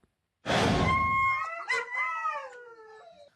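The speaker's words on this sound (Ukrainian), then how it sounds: "Мисливські собаки виють уже третій день" A hunting dog lets out a loud, drawn-out howl nearby, its pitch wavering and sliding down over a few seconds.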